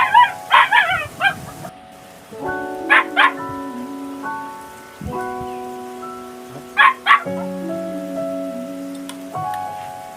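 A dog yips and whines in short bursts over steady tonal background music, the barks recurring a few times at moderate distance.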